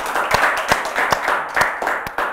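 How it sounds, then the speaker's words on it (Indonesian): A small audience claps in a loose, sparse rhythm for a screenwriter during an interview talk show, a handful of sharp, close hand claps heard alone for a couple of seconds. "Boleh tepuk tangan dulu nggak?"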